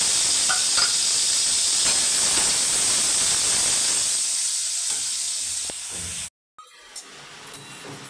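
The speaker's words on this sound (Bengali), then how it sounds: "পনিরগুলোকেও নুন হলুদ দিয়ে ভালো করে ভেজে নিলাম" Paneer fries in hot oil with salt and turmeric, a loud steady hissing sizzle that gradually softens, then cuts out abruptly, followed by a few faint clicks.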